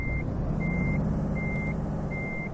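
Steady reversing beeps from a truck in Euro Truck Simulator, four evenly spaced tones over a loud, constant engine rumble.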